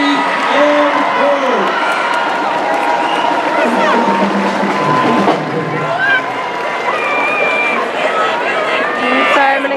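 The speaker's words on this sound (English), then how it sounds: "How about a big round of applause for your 2021 Homecoming Royalty" A high school crowd at a 2021 homecoming event cheers, whoops and claps for the homecoming royalty, a loud, busy mix of voices and shouts with chatter and applause throughout.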